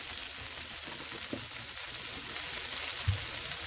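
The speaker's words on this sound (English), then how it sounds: "Saute her up. Let it get good and sauteed." Smoked paprika and oil sauteing in a pan for barbecue chicken, a soft steady sizzle with a few faint stirring clicks and scrapes, quiet and close, no talking.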